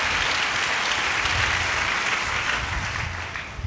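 Loud, sustained applause from a church congregation during a sermon, many hands clapping in a thick continuous roar that tapers slightly near the end.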